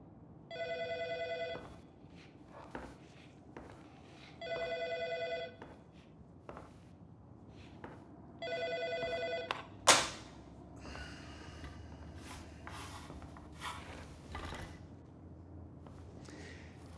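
A telephone rings three times in a quiet indoor room with even pauses between the rings, then a sharp thud and some faint rustling follow.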